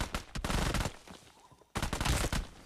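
Gunfire in the BGMI mobile battle royale: two loud bursts of rapid automatic shots, close, split by a short quieter gap.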